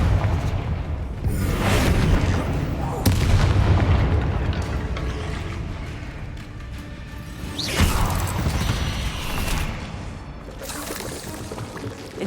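Confringo blasting spell explosions in Hogwarts Legacy: several deep booming blasts with rumbling tails, strong hits near three and eight seconds, amid ongoing combat noise.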